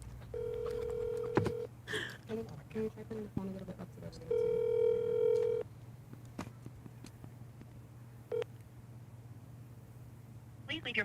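A telephone call rings out in long repeated tones with a steady dial-tone hum underneath, two extended rings separated by pauses, with brief clicks and faint voices in the background.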